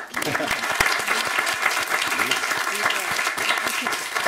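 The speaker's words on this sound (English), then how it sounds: "Blue Peter, round of applause." A studio audience on the Blue Peter set claps loudly and continuously, with voices talking over the applause throughout.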